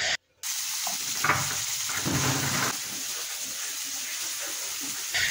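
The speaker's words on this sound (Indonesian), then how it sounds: "Kemudian masukkan bakso yang tadi sudah dipotong kecil-kecil." Chopped meatballs stir-fried with chili and shallots in a hot pan: a steady, loud sizzle broken by scraping stirring strokes, close up, with no talking.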